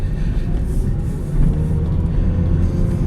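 A manual-transmission 2000 Toyota Celica GTS accelerates on a road test drive, its engine a steady, loud low rumble mixed with road and cabin noise, no voices over it.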